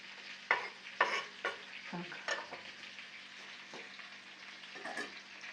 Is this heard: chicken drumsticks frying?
yes